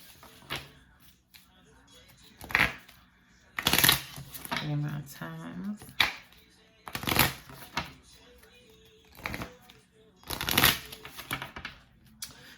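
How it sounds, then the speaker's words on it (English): Oracle cards being shuffled in quick riffling bursts, several rounds separated by pauses, close by, with a person speaking briefly in between. "Go ahead, shuffle these up."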